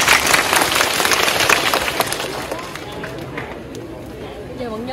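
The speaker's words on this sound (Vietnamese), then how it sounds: "một tràng pháo tay chào đón cao đẳng nghề Gia Lai" An audience at a Gia Lai college career and admissions event claps in a dense burst that thins out midway, after which voices rise over the fading applause.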